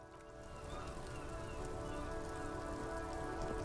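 Steady rain falls in the video game Disco Elysium, a continuous close hiss of drops on surfaces that grows slightly louder and runs alone for the whole stretch with no talk.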